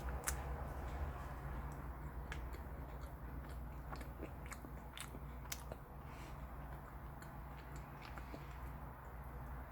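Crunchy bites and chewing of a COOKIE O coconut sand ice cream sandwich, close to the mic, with sharp crackly snaps scattered across a steady hiss and no talking.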